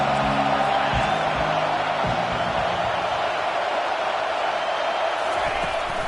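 Football stadium crowd at a college game roars in a sustained, loud wash of cheering and whoops, with a commentator speaking over it early on.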